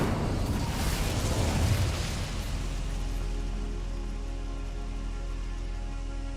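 Incendio fire spell cast in Hogwarts Legacy, a sudden whooshing burst of flame that fades into a steady crackling, rumbling hiss with a low drone underneath.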